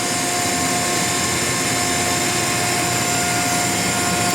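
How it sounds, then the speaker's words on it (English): Regulating wheel spinning on a Fives Cinetic RK 350-20 twin grip CNC centerless grinding machine, a loud, steady mechanical whine with a constant tone over broad hiss, unbroken throughout and without talking. "Regulating wheel's now on"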